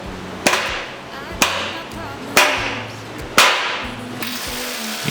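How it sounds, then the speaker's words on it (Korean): A hammer drives a 16mm wedge anchor into a hole drilled through a steel plate, four sharp metallic blows at a steady pace, each ringing briefly. "16mm 외지 앙카를 망치를 사용해 넣어주고"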